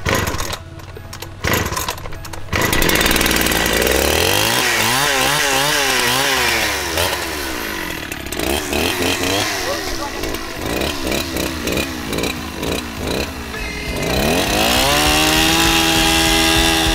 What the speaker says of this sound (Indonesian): Ini tutorial cara nyalain mesin gergaji mesin.